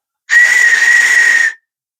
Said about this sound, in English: Shall we see if a 110-year-old whistle still blows?